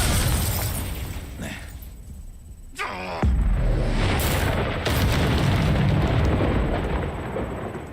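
A Confringo fire spell in the Hogwarts Legacy game bursts into a loud, booming explosion with a shattering crack, then a sustained roaring rumble. The blast follows a quieter stretch and dominates the scene.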